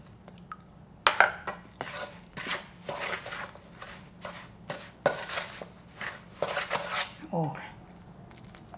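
Rice cake dough is mixed in a bowl with a wooden spoon or rice scoop, giving a series of rhythmic scraping and knocking strokes roughly every half second, close and fairly loud, with a person speaking briefly.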